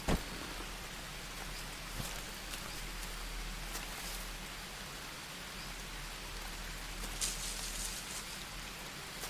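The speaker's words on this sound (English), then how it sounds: "as the rain started coming in" Steady rain in the video game Green Hell falls with a soft, hissing patter, and a few sharper drops stand out now and then. No one speaks.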